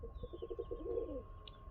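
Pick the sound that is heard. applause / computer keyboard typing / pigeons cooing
pigeons cooing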